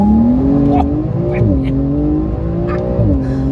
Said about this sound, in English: we'll pull out here and we'll give the car a little launch